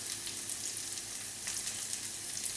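Curry leaves, chopped green chili and ginger frying in a pan for rice upma, giving a soft, even crackling sizzle throughout.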